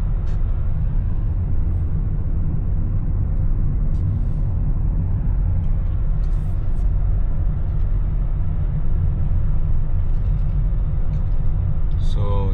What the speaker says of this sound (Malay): Mungkin yang dengar ni aircon ni,